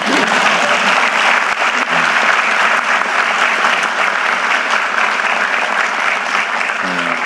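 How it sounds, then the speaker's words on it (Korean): An audience at a political talk in Jeju claps loudly and continuously, a dense, full wash of many hands that holds steady for several seconds without any speech. "박수도 한번 안 치시나요?"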